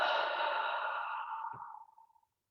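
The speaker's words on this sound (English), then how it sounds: "Exhale through the mouth." One long, steady breath let out slowly through the mouth during a guided breathing exercise. It is close and breathy and tapers off over about two seconds, with no talking.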